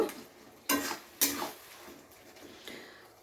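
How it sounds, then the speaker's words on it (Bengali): Boiled tomatoes mashed with a spatula in a pan for a katla fish curry, giving two sharp scraping knocks close up over a faint sizzle, then softer stirring scrapes. "এইভাবে খুন্তি দিয়ে একটু পিটিয়ে টমেটোগুলোকে গালিয়ে নেব।"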